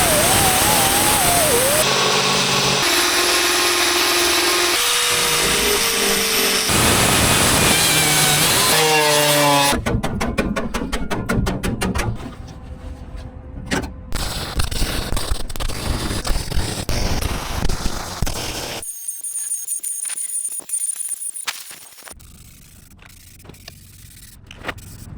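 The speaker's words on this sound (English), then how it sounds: "Now, time to grind them down." Loud continuous grinding on the driver's-side floor repair of a 1993 Ford F-350, close and harsh at first, then breaking into shorter intermittent bursts and quieter passes.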